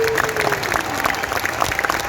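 Warm applause fills the hall at an anime convention panel, steady crowd clapping with faint cheers and a voice briefly audible over it, moderately loud throughout.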